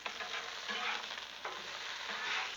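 Thick sausages frying on a Blackstone griddle, a steady bright sizzle that swells and fades slightly, close and continuous with no voices.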